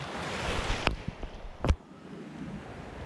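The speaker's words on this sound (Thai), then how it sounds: "คลื่นจะ ซัดเข้าฝั่งแรงหน่อยนะครับ" Waves surge onto a coastal shore near low tide during squid fishing from the beach, a steady broadband wash with wind noise, broken by a couple of sharp close knocks.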